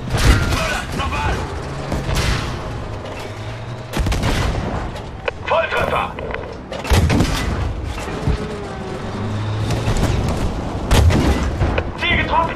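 Tank cannon shots and explosions boom repeatedly in a Battlefield V battle, loud heavy blasts every few seconds over rumbling mechanical noise, with shouted voices mixed in.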